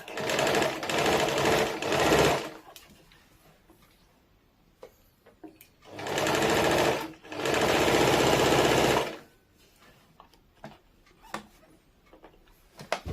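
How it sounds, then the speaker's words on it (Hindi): A sewing machine stitches a waistband onto palazzo pants in three loud, close bursts of rapid rhythmic chatter, separated by quieter pauses with faint handling clicks. "उल्टा के तरफ से कमर पट्टी को इस प्रकार से रख के सिलाई कर"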